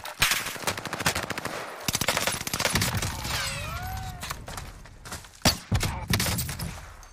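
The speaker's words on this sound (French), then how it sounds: "Il y a un autre gars qui me tire dessus." Automatic gunfire in a shooter video game, rapid rattling bursts close by with short pauses between them, plus a few single heavier shots and whooshing game effects.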